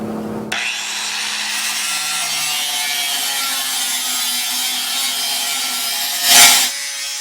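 An angle grinder cuts a square out of the sheet-metal outer wheelhouse on a Mustang under restoration, a steady loud abrasive whine that runs continuously after a brief start and swells near the end before stopping.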